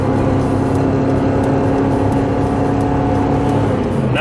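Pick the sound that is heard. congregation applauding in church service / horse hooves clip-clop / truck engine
truck engine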